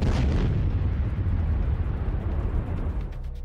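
Explosions in the Ukraine war: a loud, continuous low rumbling blast that holds at full strength for several seconds before easing slightly near the end, with no voices.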